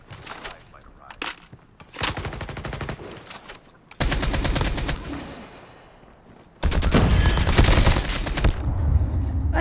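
Enemy gunfire in a shooting video game: scattered sharp bursts at first, then long, loud stretches of rapid automatic fire that crackle on and off.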